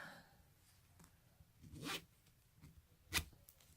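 A small light green zipper on a fabric pouch with a linen lining, pulled in two quick, faint rasps about a second apart over quiet room tone.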